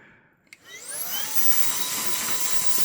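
A Fanttik X100 Mix cordless handheld vacuum, set up as a blower, clicks on and its motor spins up to a loud, steady whine that holds to the end, close by and alone.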